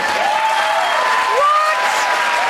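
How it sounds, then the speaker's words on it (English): A studio audience at a cooking show claps steadily and loudly throughout, a dense continuous patter with faint tonal music or voices layered underneath. "Stop clapping."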